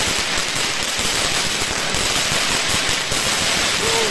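A Tornado firework fountain shooting a strong jet, a loud, continuous dense hiss and crackle of sparks that holds steady throughout.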